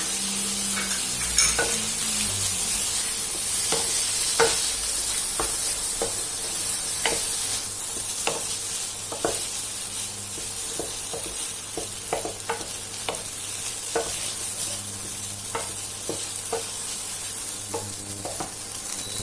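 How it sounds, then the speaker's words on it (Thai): Garlic fried rice stir-fries in a pan over medium heat. A loud, steady sizzle runs throughout, with repeated spatula scrapes and taps at an irregular pace and no talking. "ให้เพื่อนๆใช้ไฟระดับกลางนะคะ แล้วก็ผัดให้ข้าวแห้งนิดนึงค่ะ เราจะผัดนานเล็กน้อยนะคะ"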